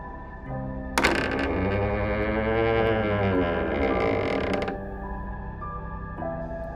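A cabinet door creaks slowly open as a horror sound effect: one long, drawn-out, wavering creak lasting several seconds, loud and close, with no voices.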